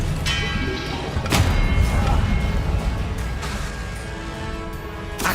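A spell effect from the Hogwarts Legacy video game, a loud whooshing burst with a heavy thump partway through and a sustained rumble of game sound behind it, with a voice calling out a spell.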